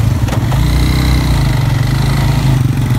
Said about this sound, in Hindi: बाइक नहीं चल रही है, मट्टी पकड़ ली है बहुत ज़्यादा